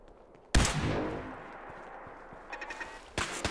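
Laser turrets firing in Fallout 4's Nuka-World Galactic Zone: a sudden loud blast decays into a ringing hum, followed by a few quick sharp zaps and another burst, with no talking.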